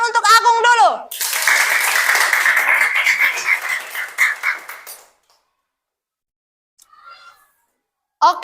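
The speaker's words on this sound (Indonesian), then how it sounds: "Tepuk tangan untuk Agung dulu." Applause from a classroom audience in a Catholic religious education teacher training session, a burst of clapping lasting about four seconds after a teacher's brief call, then silence.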